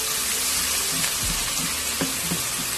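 Ginger garlic paste frying in a pan over full flame, a steady hissing sizzle with a few soft clinks of stirring, close and continuous.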